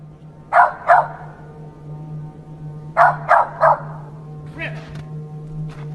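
A scared dog barks in short clusters of two or three sharp barks, fairly close, with a steady low hum beneath and quieter yips near the end.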